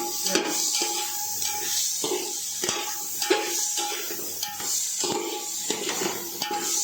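Onions being stirred in a pan while cooking masoor pulao, with repeated metal clinks and scrapes of a utensil against the pan over a soft sizzle, close and steady.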